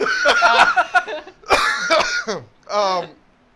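A few harsh, explosive coughs close to the mic, with a short throat-clearing burst and some voice sounds in between.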